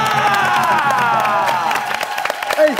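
A crowd applauding and cheering, a steady wash of clapping with whoops and shouts mixed in, loud and continuous throughout.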